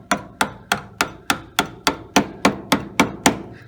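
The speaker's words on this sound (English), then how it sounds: "pound it along the edge with a soft hammer" Steady, evenly spaced soft hammer blows on a car's chrome drip rail trim, about a dozen in a row, each a sharp close knock that quickly fades, with no talking.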